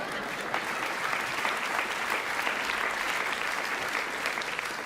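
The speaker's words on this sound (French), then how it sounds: "Laissez pas les copines toutes seules applaudir comme ça." Sustained, dense applause from a comedy club audience at a stand-up show, steady and loud for the full length with no break or speech on top.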